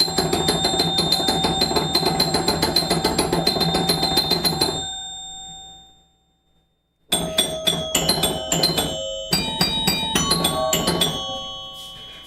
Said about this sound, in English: There's the 6 chimes again.